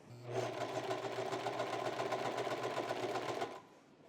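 A sewing machine runs a continuous stitch across a shirt yoke seam, a steady close rapid rattle for about three seconds before stopping.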